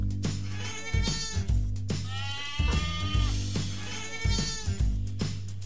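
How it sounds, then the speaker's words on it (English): A goat bleats in a series of wavering, quavering cries, close and fairly loud, over a steady low backing tone with short rhythmic thumps. "Goat."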